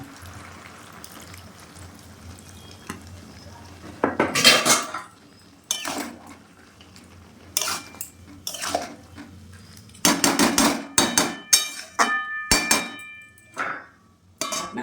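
Cabbage and prawn curry in a pot is stirred and covered, with loud metallic clanks and scrapes of a utensil against the pot in irregular bursts between quieter stretches; no talking.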